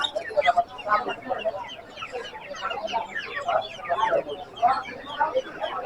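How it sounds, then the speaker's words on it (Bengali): A flock of quail caged at a traditional village market (haat) keeps up a steady, busy chatter of overlapping chirps and soft clucks, fairly close and continuous throughout. "বন্ধুরা আপনাদেরকে আমি দেখাচ্ছি কোয়েল পাখি"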